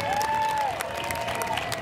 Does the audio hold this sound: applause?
yes